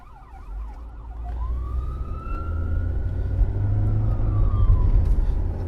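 An ambulance siren wails nearby, first with a fast warbling yelp and then switching to a long rising-and-falling wail as it passes over steady traffic rumble.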